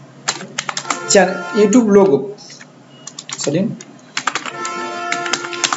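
Typing on a computer keyboard in quick bursts of close, crisp key clicks, broken by pauses, while someone speaks between and over the keystrokes.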